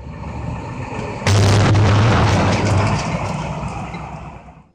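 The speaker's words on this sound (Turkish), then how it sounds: "bir otomotiv yan sanayi üretim fabrikasının kimya deposunda henüz bilinmeyen bir nedenle patlama meydana geldi" An explosion at the chemical depot of an automotive parts factory in Kocaeli hits suddenly as a loud, heavy boom, then rumbles and roars on for several seconds before slowly dying away.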